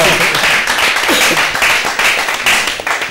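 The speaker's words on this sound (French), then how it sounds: "Ça, là, ça peut s'applaudir quand même" An audience applauds during the presentation of a Gabonese comic book, a sustained patter of many hands clapping at close range, with a voice faintly underneath.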